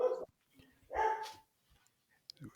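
A dog barks sharply twice, with a short yip at the end, loud and near, separated by quiet gaps.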